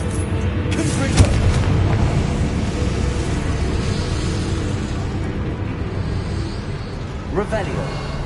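Spell explosions from a Harry Potter video game: a sharp boom near the start and another around seven seconds, set in a dense, continuous rumbling wash of game sound effects and ambience.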